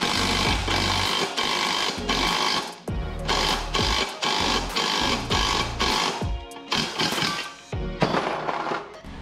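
Press pushing a ball joint into a Dana 60 knuckle, heard as repeated bursts of loud mechanical whirring and rattling, each stopping abruptly, close and without talk.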